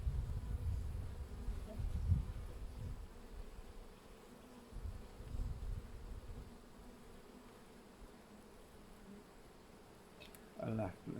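Bees buzz in an opened hive, a dense steady drone close by with swells of louder humming and a few bumps near the end as frames are handled.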